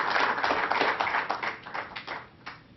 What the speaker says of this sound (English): Let's give Dr. Mantosh Dewan another round of applause for what he has done here.